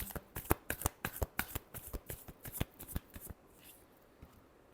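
Tarot cards are shuffled by hand in quick, sharp riffling bursts for about three seconds, crisp and close, before the sound trails off into quiet handling.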